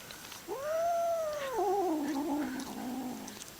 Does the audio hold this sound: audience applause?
no